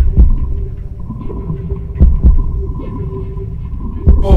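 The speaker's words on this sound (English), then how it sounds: "my heartbeat is super loud" Heavy, booming heartbeat inside The Body VR game, loud low thumps in an uneven pulse over a constant droning hum, with no talk.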